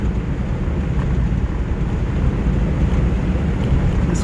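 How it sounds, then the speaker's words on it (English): Wind rushes steadily through the open windows of a 1941 Buick Super 56C convertible coupe while it drives. The broadband roar is loud and constant, with almost no engine sound beneath it. "All I hear is wind noise through the windows."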